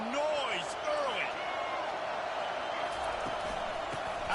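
Crowd roar at a college football game between Michigan and Rutgers fills the stadium, a steady, dense wash of noise with whistle-like cheers rising over it.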